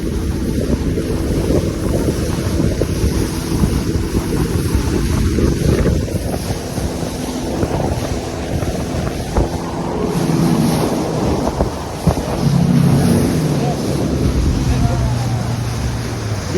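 A resort boat cruises across open water, its waves and engine producing a loud, steady rumbling wash, with heavy wind buffeting the microphone and a voice faintly present.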